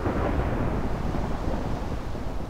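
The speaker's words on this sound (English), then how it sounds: "I thought I'd turn off storms." Continuous heavy rumble of a thunderstorm in the Minecraft video game, loud and steady throughout with dense low roaring and no voices.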